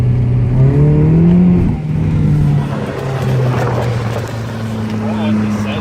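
A newly bought car with chopped mufflers revs loudly, its raw, droning exhaust rising in pitch and then settling into a steady rumble, with voices heard over it inside the car.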